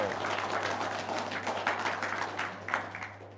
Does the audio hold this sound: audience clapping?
yes